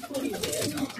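A pigeon coos softly a few times, close by, in a brief low burbling call.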